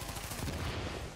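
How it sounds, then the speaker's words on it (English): A grenade launcher explosion in The Division video game: a dense, loud burst with rapid rumbling blasts that fill the moment and then fade slightly. "Oh god, something blew up."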